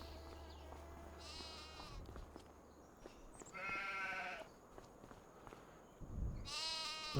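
Sheep in Farming Simulator 25 bleat three times in a quiet pasture, each call a wavering nasal cry of about a second, clear and fairly close over faint background ambience.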